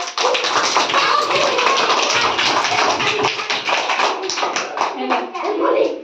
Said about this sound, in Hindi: कि ताली मार दियो